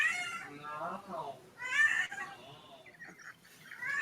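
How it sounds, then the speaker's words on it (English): A cat meows a few times close by, drawn-out whiny calls with short pauses between them, heard alone without talk. "it's my cat"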